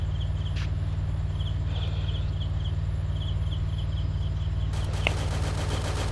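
Rapid bursts of gunfire from the video game Free Fire ring out over a constant low engine-like drone, with sharp single shots standing out near the end.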